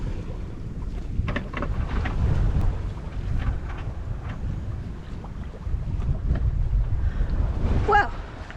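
Offshore sailing between the Canary Islands and Cape Verde: steady wind buffets the microphone with a deep, rumbling roar, rising and falling in gusts over rushing water, close and constant.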